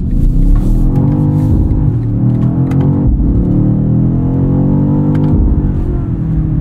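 A 2024 BMW XM Label Red engine roars loudly up close in manual mode, revving and climbing in pitch through gear changes as it accelerates hard.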